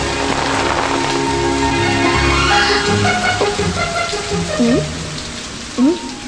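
Steady rain hiss fills the scene, with a voice speaking and a couple of short rising tones near the end.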